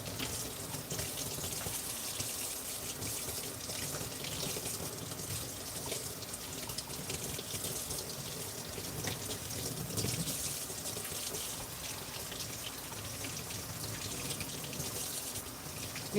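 Running water from a tap splashes over a plant's roots to rinse off soil, a continuous soft gushing and spattering that stays fairly quiet and steady for a long stretch, with no voices.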